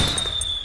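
Grenade launcher blast in Metal Gear Solid 4: a brief, loud burst with a sustained high whine and broadband crackle, standing alone with no talk.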